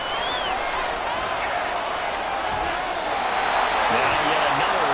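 A football stadium crowd in Buffalo jeers and roars as a steady, dense wall of sound that holds loud through the whole stretch, with no break.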